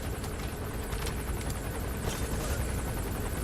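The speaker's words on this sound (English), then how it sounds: "So, there's a helicopter overhead!" A helicopter passes overhead in the Metal Gear Solid V: The Phantom Pain video game, a steady, loud rotor and engine wash that fills the whole clip without a break and with no one talking over it.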